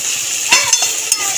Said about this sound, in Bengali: সব একসাথে কষিয়ে নেব।